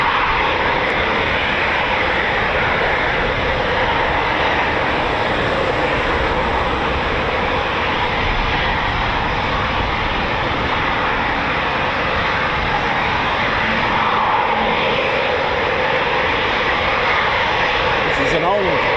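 Eurofighter Typhoon FGR4 jet engines at RAF Coningsby, an older Tranche 1 airframe, roar loud and unbroken for the whole stretch with a dense, steady rushing.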